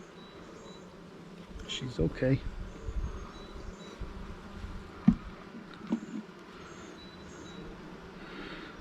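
Honey bees buzz steadily around an open hive during a close-up inspection, a soft constant drone with a few sharper knocks and handling sounds, while a person speaks briefly nearby.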